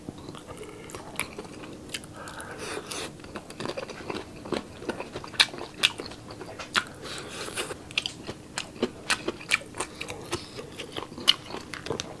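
Close, crisp crunching and biting as someone chews crunchy steam-fried dumplings, with sharp irregular cracks repeating steadily and no talking.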